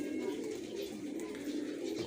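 Excited male pigeons coo in a continuous, close, low murmuring chorus that holds steady throughout, with no talk over it.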